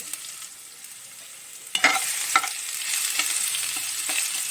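Garlic and ginger frying in a pan for a mushroom and pea masala curry, a steady close sizzle with a few sharp clatters of a spoon stirring partway through, no talking.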